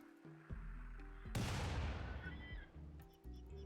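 Burst of gunfire from a RimWorld battle, a sudden broadband crack around the middle that decays over a second or so, set against a steady game music bed with no one talking.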